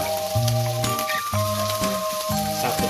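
Onion, garlic and ginger sizzle steadily in a hot pan as the base for sinigang, a continuous close frying hiss under sustained tonal background music.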